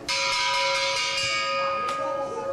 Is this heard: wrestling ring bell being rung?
yes